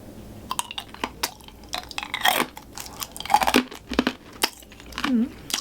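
Crushed ice is chewed close up in uneven bursts of crunching and cracking, with brief pauses and soft mouth noises between bites.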